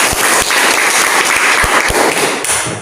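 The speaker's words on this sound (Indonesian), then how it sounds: "Ya, tepuk tangan dulu." A classroom of students clapping together, a brisk burst of applause with a few sharp, close claps and thumps standing out, loud throughout before tapering slightly at the end.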